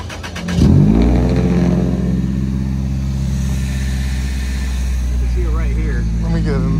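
Toyota Celica engine fitted with a Flowmaster FX muffler revs up hard at a Toyotafest car show, then settles into a loud, steady droning exhaust note close by, with people talking over it.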